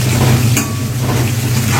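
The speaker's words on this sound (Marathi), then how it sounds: "लसूण आणि कढीपत्ता आणि तीळ आणि जिरं आपण जे घातलेलं आहे ते चांगलं असं फ्राय करून घ्या." Garlic, curry leaves, sesame seeds and cumin fry in hot oil for a vegetable dish, a steady close sizzle that holds throughout with no talking.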